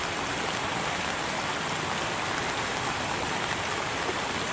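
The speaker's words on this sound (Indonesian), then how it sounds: "Dan sekarang itu lagi turun hujan" Steady rain falls over rice paddies in a village where fields are ploughed with buffalo, a dense, even hiss of drops on surfaces, close and continuous throughout with no voices.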